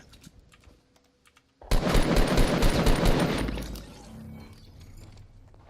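Gunfire in the video game Fortnite: after a quiet stretch, a loud, dense burst of rapid automatic shots lasts about two seconds, then tails off into lower rumbling game noise.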